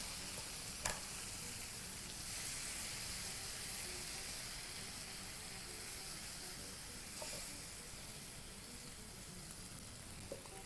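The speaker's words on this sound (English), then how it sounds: "you should actually be able to hear that sizzle right through to the very end of the cooking" Vegetables for a stir fry sizzle steadily in a hot pan, a constant bright hiss with a few faint clinks of utensils, continuous and fairly quiet.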